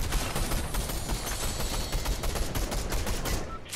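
Dense, rapid gunfire from a Fortnite match, loud continuous bursts of shots overlapping into a near-solid rattle for several seconds with no talk.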